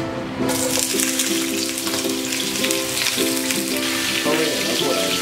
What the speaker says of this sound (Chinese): 然后呢把排骨下锅